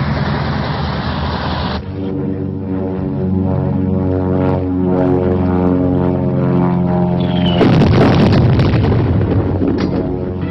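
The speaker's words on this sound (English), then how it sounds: "Jumbo's improvised bombing of the Japanese from the antiquated Lysander" Engine drone of an antiquated Lysander propeller aircraft on a wartime bombing run over Burma, a loud steady rumble with a thudding blast partway through and a burst of explosive noise near the end, with no voices.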